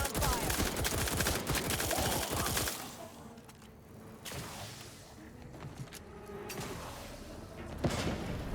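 Rapid gunfire rattles in The Outer Worlds 2, a dense burst of shots at the start giving way to scattered, fainter cracks and whooshes over a steady background.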